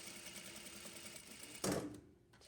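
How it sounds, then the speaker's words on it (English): Sewing machine stitching pajama pants: a steady, quiet mechanical whir of needle strokes running continuously, ending in a short louder clunk before falling nearly silent. "sew straight, turn, sew straight, turn, sew straight,"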